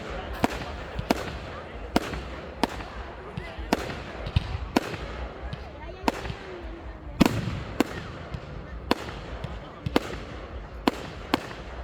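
Repeated sharp firework bangs pop at irregular intervals after a concert, some near and loud, with crowd chatter and voices talking underneath.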